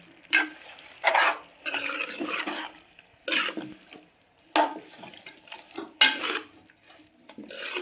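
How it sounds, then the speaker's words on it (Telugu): Country chicken curry with cashews being stirred in a clay pot after salt is added: a spoon scrapes and clanks against the pot in several separate bursts, close and fairly loud, with short quiet gaps between them. "ఉప్పు వేసుకున్న తర్వాత ఇలా ఒకసారి తిప్పుకుందాం"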